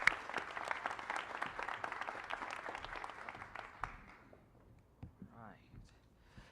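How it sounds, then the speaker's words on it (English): Audience applause at a civic event marking 500 days until the FIFA World Cup 2026 in Houston, a dense steady clatter of many hands that fades out over several seconds, with a voice speaking near the end. "let's give a big round of applause to everyone who's made this happen"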